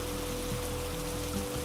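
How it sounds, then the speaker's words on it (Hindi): Heavy rain pours in a constant, dense, rushing hiss, with a low steady hum underneath and no voices during the brief stretch. "पर फिर से बारिश शुरू हो गई।"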